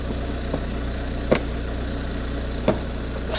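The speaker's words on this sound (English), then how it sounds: "So yeah, it seems to be some sort of idle fluctuation, but yet no faults." A Nissan Qashqai 1.5 dCi diesel engine idles with a steady low hum and a faint regular pulse, broken by a couple of brief clicks, heard close and alone.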